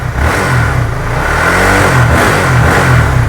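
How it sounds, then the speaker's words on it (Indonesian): A Honda Sonic motorcycle engine revs up close, loud and throaty, with the pitch rising and falling in short bursts. "aku cek soundin untuk suara mesin Honda Sonic ini ya bang"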